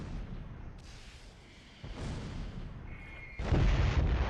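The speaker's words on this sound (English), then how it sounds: "What if we use Rambo to drop some rockets on these guys?" Rocket strikes land in Close Combat III as a series of distant, muffled explosions and rumbling booms, growing heavier and louder toward the final, deep blast.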